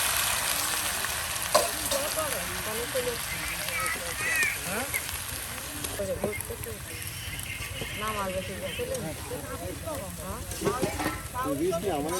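Beans frying in hot oil with crisp fried onions, a steady close sizzle and stirring scrapes running throughout, with a few brief rattles and knocks and a voice talking over it at times.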